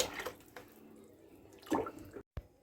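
Used cooking oil, about five litres, pours slowly into a container for homemade hard soap with lemon peel. Soft, splashy liquid pouring in uneven surges, a stronger gush near the end, then a brief silence and a short final splash.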